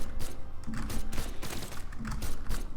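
Gun down-air attack in Brawlhalla, a quick run of sharp mechanical gunfire-like bursts and clicks, busy and dense with game effects, no voices.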